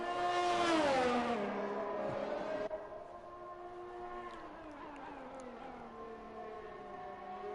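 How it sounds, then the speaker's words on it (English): Formula 1 race cars in a racing video game pull out of the pits at the Austrian circuit, engines whining high and dropping in pitch as they pass, then a lower, steady drone fading into the distance. "Drivers coming out of the pits already."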